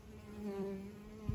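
Honey bees buzzing at a hive entrance where guard bees inspect strangers, a steady close, low hum with a brief louder burst near the end.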